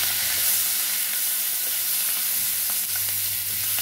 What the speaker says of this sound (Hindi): हम इसमें डाल देते हैं शिमला मिर्च। इसे भी हम एक दो मिनट भूनेंगे।